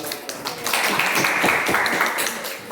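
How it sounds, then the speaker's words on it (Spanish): Brief classroom applause for a student named Lucas, a short burst of clapping from a small group that swells and then fades within a few seconds. "Un aplauso a Lucas."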